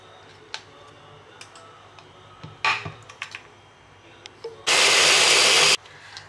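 A kitchen blender grinds a spice paste with dried shrimp in a burst of about one second, loud and dense, after scattered clicks and knocks of loading the jar.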